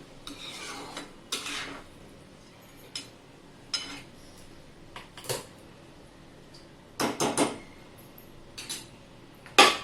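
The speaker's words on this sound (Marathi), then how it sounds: "अशा प्रकारे वितळलेल्या गव्हात लापशी टाकून ती आता पाच मिनटं आपण हलवून घेऊया त्याच्यात मिक्स करून घेऊया" A spoon stirs broken wheat porridge for sweet wheat kheer in a pot, giving scattered scraping and clinking strokes of metal on metal, some in quick bursts, close by against a quiet background with no talking.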